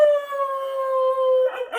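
A human voice imitates a dog howling in a children's story reading, one long sustained wavering howl held close and loud for over a second before breaking into a short yelping tail.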